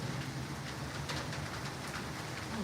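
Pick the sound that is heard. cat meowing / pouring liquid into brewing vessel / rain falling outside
rain falling outside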